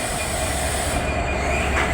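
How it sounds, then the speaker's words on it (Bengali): A train rolls into a station on the Khulna line, its carriages rumbling steadily with metallic rail noise and a faint squeal of wheels, loud and close throughout. "খুলনার ট্রেন চলে এসেছে"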